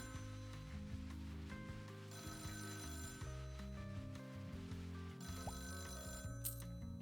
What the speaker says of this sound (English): Oh, and we got a phone call.